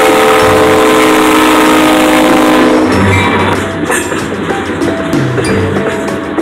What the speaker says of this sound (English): And just watching the train.